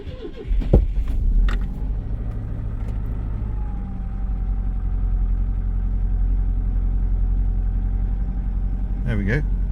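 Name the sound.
classic Citroen car engine cranking and starting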